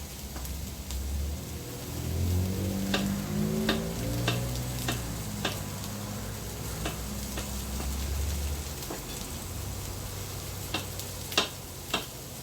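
Knife chopping vegetables on a board, a run of sharp irregular taps, close but soft, with a low hum underneath and a few louder strikes near the end.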